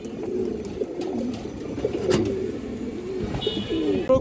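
A female Muslodom pigeon coos nearby in soft, repeated low calls over a steady background hum, with a brief high rustle near the end.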